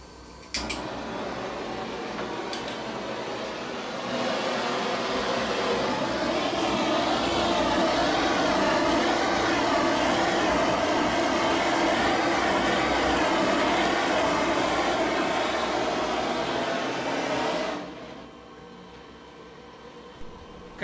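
A gas burner roars steadily as its flame, burning at about 3000 degrees, is fired at an immersion cooling liquid; the loud broadband hiss starts after a few seconds, holds for about fourteen seconds, then cuts off, with no talk.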